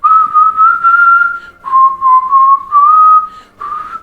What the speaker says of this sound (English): I can whistle, right?